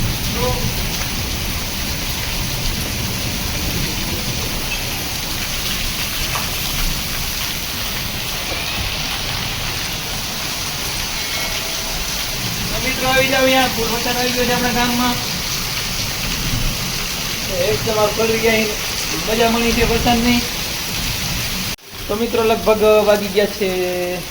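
Heavy rain pours down with wind in a steady, dense hiss, with someone speaking over it in the second half.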